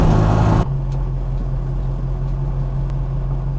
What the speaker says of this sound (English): that was your ride along in a 66 Austin Mini Cooper Mark I with a 970S motor in it